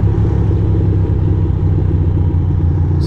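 A Ducati motorcycle engine idles and rumbles roughly at night on a city street, loud and close with a steady, uneven low throb and no talk.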